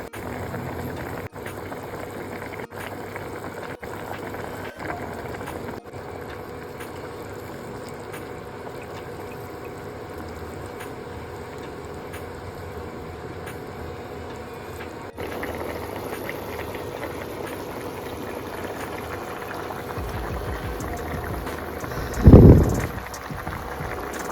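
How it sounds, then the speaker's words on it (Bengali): Egg curry broth simmering in a pan, a steady low bubbling and gurgling that holds for the whole stretch, with one brief louder clatter near the end. "ঝোল ফুটে উঠেছে দু মিনিটের মধ্যেই"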